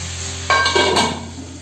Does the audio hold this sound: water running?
no